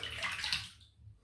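Running water splashing briefly while a razor is rinsed during a wet shave, a short hissing gush that fades out after under a second.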